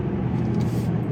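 Engine and road noise from a 2021 Toyota 4Runner TRD Off-Road Pro driven in sport mode, a steady close drone that runs unbroken through the moment.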